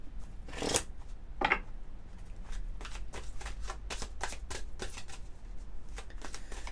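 Oracle cards are shuffled by hand in quick papery riffles and flicks, fairly close, in uneven bursts against a soft steady background hiss with no talking.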